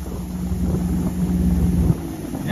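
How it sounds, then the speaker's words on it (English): Small, cheap restored motorboat at about 45 miles an hour, heading into the wind over wavy water, gives a steady droning engine whine under loud wind rush and hull thumps, close and continuous. "in wavy water I'm going against the wind 45 miles an hour"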